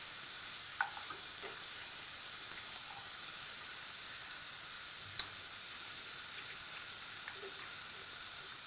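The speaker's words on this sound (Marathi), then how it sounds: "मी पहिल्यांदा फ्रेंच बीन्स घालते" French beans frying in a pan for vegetable Hakka noodles, a faint, even hiss of sizzling oil with a few light, scattered clicks of utensils, no voices.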